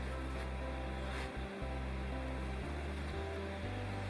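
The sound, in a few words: creek flowing near a campsite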